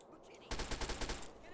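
Sniper gunfire in Fallout 3, a quick burst of sharp cracks in fast succession that lasts under a second after quiet, fairly faint overall.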